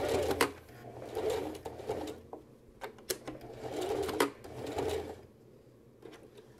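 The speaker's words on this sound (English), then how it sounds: "I'm at my machine and we're gonna now stitch through all of this here." A sewing machine stitches through the layered fly piece of a garment, running in several rapid bursts with short pauses for backstitching between them, close and clear with no talking.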